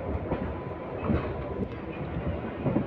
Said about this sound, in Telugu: మన ట్రైన్ అయితే కారేపల్లి జంక్షన్ నుండి అయితే బయలుదేరిపోయింది